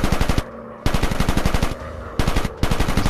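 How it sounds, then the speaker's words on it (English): Machine guns fire in long rapid bursts during a WWI aerial dogfight in the War Planes WWI VR game, loud, close and rhythmic, broken by two brief pauses. "He's taking fire."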